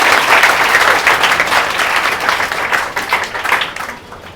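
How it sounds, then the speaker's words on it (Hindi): A room full of people claps loudly and continuously at a coaching-class event honouring a student selected for a government job, dense applause that stays strong before tapering off at the end. "हेलो ताली बजा दीजिए भैया, कंजूसी मत करिए।"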